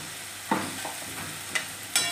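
Cluster beans frying in a pan and being stirred, giving a low sizzle broken by three sharp scrapes of the spoon against the pan, with no one speaking.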